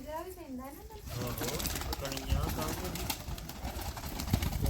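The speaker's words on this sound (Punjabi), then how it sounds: "ਵੇਖੋ ਜੀ ਕਬੂਤਰ ਵੇਖੋ ਤੁਸੀਂ ਸਾਹਮਣੇ ਕਬੂਤਰ ਵੇਖ ਸਕਦੇ ਤੁਸੀਂ" Soft pigeon coos roll in the background while someone talks over them, with steady outdoor ambience throughout.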